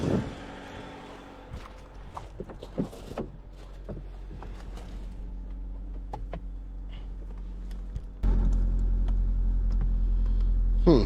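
A 2017 Ram ProMaster City company van idles steadily with a low, continuous engine drone and occasional clicks and handling noises, then the hum grows noticeably louder and fuller for the final seconds, as if a cooling fan kicked on high.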